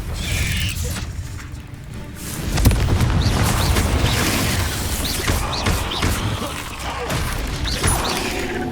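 Spell explosions and blasts in the Hogwarts Legacy video game, continuous rumbling impacts and crashes layered with combat effects, loud and dense, with a voice briefly heard among the noise.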